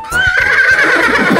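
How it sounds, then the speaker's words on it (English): A horse neighs in a barn: one loud, close whinny with a rising, shaky tone that carries through most of the short clip. "In the barn, the horses neigh, neigh, neigh"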